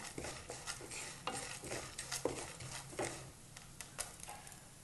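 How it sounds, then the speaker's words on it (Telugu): Urad dal, cumin seeds and chana dal fry and get stirred in hot oil in a pan, with a soft steady sizzle under repeated scraping and clinking of a spoon against the pan, up close. "మినపప్పు, జీలకర్ర అలాగే శనగపప్పు ఈ 3 కూడా లైట్గా బ్రౌన్ కలర్ వచ్చే వరకు మనం ఫ్రై చేసుకోవాలి"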